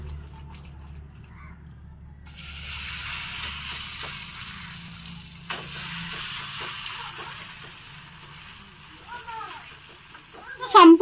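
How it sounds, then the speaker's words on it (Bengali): Spinach tipped into hot oil on a tawa for a vegetarian spinach curry: a steady, hissing sizzle rises after a quiet start and carries on, with a few clinks near the end. "তো তেলটা গরম হয়ে গেছে এর মধ্যে আমি এই যে পালন শাকটা দিয়ে দেবো"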